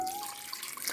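Water pours into a cooking pot while rice and chicken are being prepared, a soft continuous splashing stream close by with no talk.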